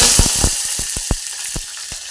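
Garlic dropped into hot oil with cumin and mustard seeds, sizzling steadily with a bright hiss and scattered sharp pops and crackles, close and alone.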